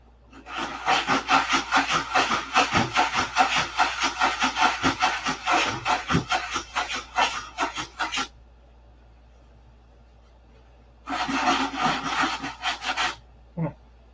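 Sandpaper rubbed back and forth over a P-47 model aircraft, a loud close rasping scrape in quick rhythmic strokes that runs for several seconds, stops, then resumes briefly.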